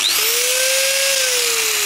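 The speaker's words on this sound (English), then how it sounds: "just using an angle grinder with a cutoff wheel in it" Angle grinder fitted with a cutoff wheel cutting through a fiberglass plant pot gives a loud, close, continuous high whine that rises slightly in pitch and then sags as the wheel bites in.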